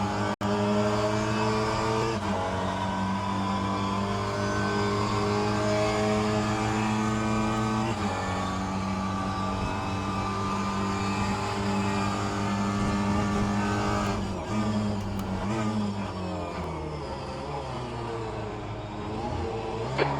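A Mini Cooper race car engine drones steadily in the rFactor 2 racing game at Sebring club circuit, a loud sustained tone that shifts pitch through gear changes and revs.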